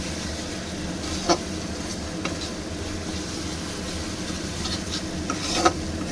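Spice paste for egg malai curry is stirred and fried in oil, a steady low sizzle with soft rubbing scrapes of a spatula and a couple of brief knocks against the pan.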